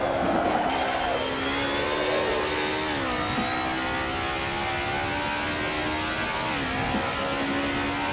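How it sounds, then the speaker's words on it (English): Mercedes-Benz car engine in the Assetto Corsa racing game, a synthetic, buzzy drone that climbs steadily through the revs, with brief dips at gear shifts, loud and continuous with no talking. "Some Mercedes engines do have this industrial kind of like electronic synth kind of sound."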